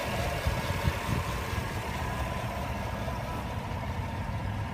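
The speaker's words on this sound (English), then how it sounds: "Very impressive engine for an SUV." A 2016 Chevrolet Tahoe LTZ SUV's engine idles steadily with a low, continuous rumble, close and even throughout without revving or any talk.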